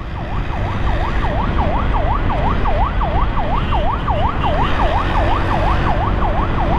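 An ambulance siren from a Bukittinggi brain hospital wails in a fast, regular up-and-down pattern, loud and sustained over steady traffic rumble, heard from a motorcycle escorting it.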